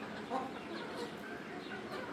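Soft, low clucking of chickens in the background, faint and intermittent over a quiet outdoor ambience.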